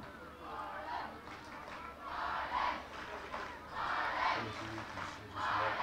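A stadium crowd at an Ireland v England women's rugby match cheers and roars in repeated swelling waves, rising and falling every second or so, distant and broad, with a faint voice underneath.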